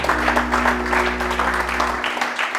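A church congregation applauds steadily in a dense, continuous wash of clapping, close and loud throughout, with a low steady hum underneath.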